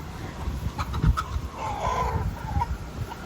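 Chickens cluck softly in the background over gusty wind noise, with a few brief louder calls scattered through.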